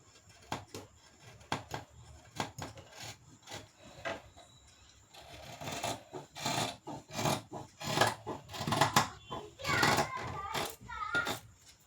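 Scissors cut through cloth for a school uniform coat in a series of close, rasping snips and slides, irregular and growing louder and denser toward the end, with a little faint talk nearby.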